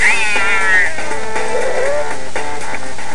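A Burmese cat meows loudly and close, one long rising-and-falling cry followed by a shorter, lower meow, with a constant background hum throughout.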